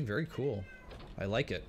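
A cat meows loudly and close by, several drawn-out calls in a row, while a person talks over it in a room with a Quake game going.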